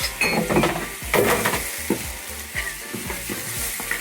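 Ginger stir-frying in a pan makes a loud, close, continuous sizzle, with brisk tossing and scraping of a utensil against the pan throughout.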